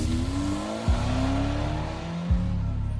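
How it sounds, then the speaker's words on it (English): Car engines pulling away in the video game Banebush make a loud, steady low rumble, with two brief swooping pitch drops as the cars pass and fade. "The sound of departing cars' engines start the countdown."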